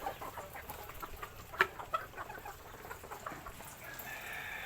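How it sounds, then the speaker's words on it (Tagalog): Chickens cluck and call softly at a moderate distance over a steady outdoor background, with one brief louder squawk partway through. "yung mga manok ko"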